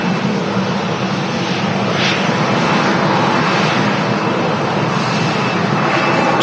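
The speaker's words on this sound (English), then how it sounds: "The Sun Express taxiing passengers in from Dalaman." A SunExpress airliner taxis at Manchester Airport, heard as a steady, loud, continuous jet engine roar with broad rushing noise that holds at a constant level throughout.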